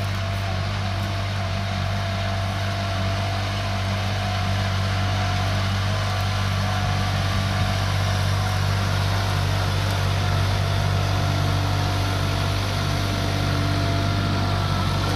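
New Holland 3630 4x4 tractor pulling a 22-disc hydraulic harrow, its diesel engine droning in a steady, loud, low hum with a constant tone and no voices throughout.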